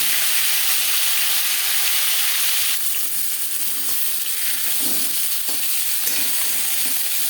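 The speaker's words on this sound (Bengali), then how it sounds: "2 চামচ সরষের তেল গরম করে নেওয়ার পর দিয়ে দেবো ম্যারিনেট করে রাখা মাছের মাথা" A marinated rohu fish head fries in hot mustard oil, producing a loud, continuous sizzling hiss with brief crackles and pops, close and alone without any voices.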